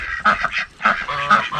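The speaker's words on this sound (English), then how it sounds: "the goose is trying to fly out of there" Geese in a farm pen shared with ducks and Rhode Island Red chickens give several loud, close, nasal honks in quick bursts.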